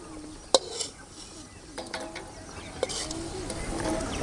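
Broken cashew nuts frying in a pan for a sweet banana kesari, with a soft continuous sizzle, a couple of sharp utensil clinks and light scraping stirs close by.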